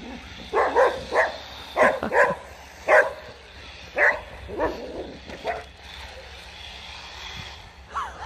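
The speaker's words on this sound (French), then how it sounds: "on se fait toujours attaquer par un chien quand on fait de la voiture radiocommandée" A dog barks repeatedly in quick, uneven bursts at close range while a radio-controlled car is being driven outdoors, the barks sometimes breaking into yips, with a faint low hum underneath.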